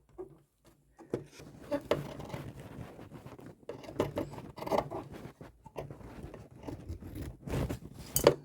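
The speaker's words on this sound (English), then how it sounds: "What I'm doing is I'm going along and I'm cutting these edges." Scissors snipping along the fabric edges of a Simplicity 1618 sewing pattern, a run of short, crisp cuts and rustles in irregular bursts, close and moderately loud with no talking.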